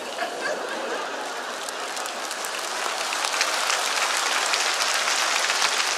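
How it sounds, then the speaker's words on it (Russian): Studio audience applause in a comedy sketch about a plane landing, a dense, even wash of clapping that swells slightly louder halfway through and carries on without talk. "Если люди хлопают..."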